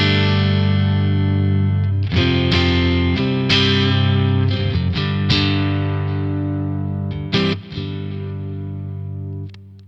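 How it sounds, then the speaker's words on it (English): A Stratocaster electric guitar tuned to D standard plays through a Twin Sister amp with reverb and delay added. Loud overdriven chords are struck and left to ring and sustain, with a few sharp restrikes, and there is no talking. "So that's the sound of the guitar."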